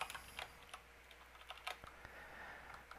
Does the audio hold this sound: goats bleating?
no